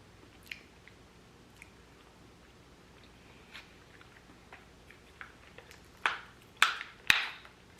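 Someone chewing pepper jack vegan cheese cubes, soft sparse mouth sounds at first, then several louder wet squishy bites close to the microphone near the end.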